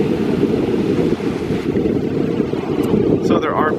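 Small, gentle ocean waves washing onto a beach at an all-inclusive resort on the Riviera near Cancun, Mexico, forming a steady broadband surf wash mixed with wind noise on the microphone.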